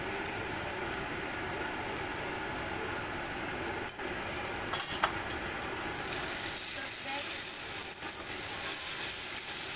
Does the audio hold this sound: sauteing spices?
yes